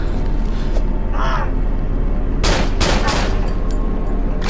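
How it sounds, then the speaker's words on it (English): Glock pistol gunfire in the horror game Cry of Fear, a quick cluster of three or four sharp close shots over a steady low ambient hum, preceded by a faint shrill creature cry. "I should probably use the Glock, because there are a lot of them"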